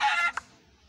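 A Minecraft chicken gives a short, clear cluck up close, followed by a brief chirp and then quiet.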